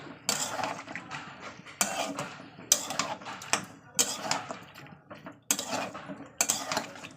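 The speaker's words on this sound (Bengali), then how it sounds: "এবার আদা রসুন জিরের সঙ্গে ভালো করে মাংসটা কষিয়ে নেবো" Meat sautéed with ginger, garlic and cumin in a pot is stirred with a metal utensil, producing about six irregular bursts of clanking and scraping against the pot, close and clear.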